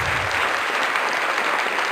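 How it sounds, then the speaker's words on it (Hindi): Congregation clapping together in a church service, a dense, steady burst of applause filling the whole two seconds at close range with no voices over it. "Can we clap for them?"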